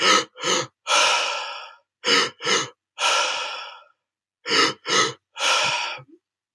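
A mouth-breathing breathwork pattern, done lying on the back, repeats three times: two quick, sharp inhales followed by a longer, drawn-out exhale, close and clear against silence.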